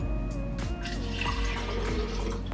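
Water pours into a cup holding supplement powder, a steady close liquid splash and gurgle that runs for a couple of seconds with small bubbling shifts and no voices.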